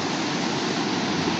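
A waterfall near Karasu in Mazıdağı, Mardin, roars as a steady, dense rush of falling water, close and continuous with no voices.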